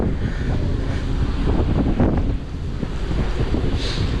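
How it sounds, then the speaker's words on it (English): Strong wind buffets across the open aft deck of the cruise ship Carnival Pride, a loud, constant roaring rush with gusty surges and no speech. "The wind's probably gonna get worse when I get up here."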